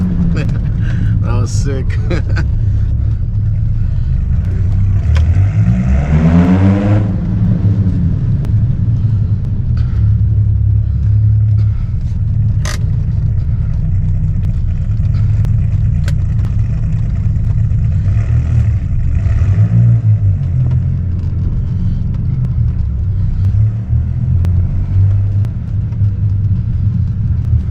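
A 1997 Dodge Viper GTS with a loud, deep rumbling engine revving hard, a sweeping surge of acceleration in the middle and later revs, heard close with wind noise and someone speaking.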